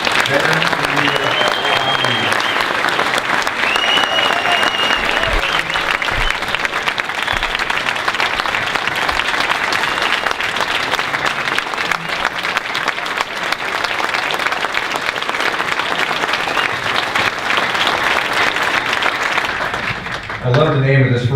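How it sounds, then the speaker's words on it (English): A luncheon crowd applauding veterans honored at an annual recognition event: long, steady, full-room clapping that holds at even loudness for about twenty seconds, with some voices mixed in near the start. "would you join me in one more round of applause for our 24 veterans of the year."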